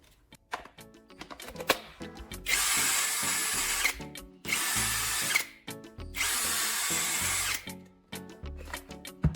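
A cordless power drill, with a battery that has been losing power, whirs in several loud bursts of a few seconds each, separated by quiet gaps filled with clicks and handling noises.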